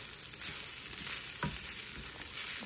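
Garlic fried rice frying and being stirred in a pan, a dense close sizzle with a few scraping strokes of the spatula against the pan.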